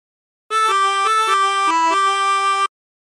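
A chromatic harmonica plays a short phrase of the Battle Hymn of the Republic, with several sustained reedy notes changing pitch in steady succession, loud and close, with no talking.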